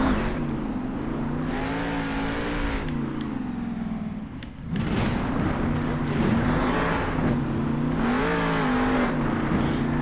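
A monster truck engine in the video game Monster Jam Steel Titans 2 revs hard and loud, its roar rising and falling through repeated accelerations with a brief dip midway.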